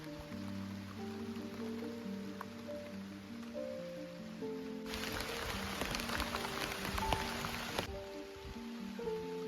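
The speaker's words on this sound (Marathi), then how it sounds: "पाऊस पण आला नेमकाच." Rain falls outdoors at a hilltop campsite, a rushing burst of downpour swelling for a few seconds over steady tonal background music.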